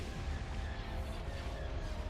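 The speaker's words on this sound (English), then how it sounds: "Ion cannon firing" Ion cannon fire in a Star Wars strategy video game: a dense, steady rumble of heavy blasts and booms that rolls on without a break at moderate volume.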